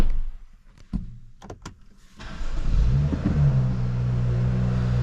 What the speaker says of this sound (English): So we'll hop in, get the car started.